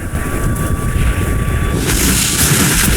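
Seaside ambience in the game Where Winds Meet: strong, steady wind buffeting over a low ocean roar and wash of waves, continuous and loud, with a faint tonal hum in the first half.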